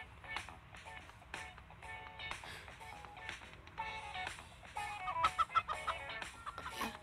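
Chicken clucking in the video game Turbo Dismount, a run of short, close clucks repeating through busy game noise, louder and denser toward the end.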